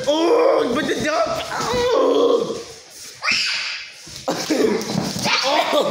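A dog barks and whimpers in short yips amid loud, excited talking and shouting from several people, the animal's cries mixing closely with the voices.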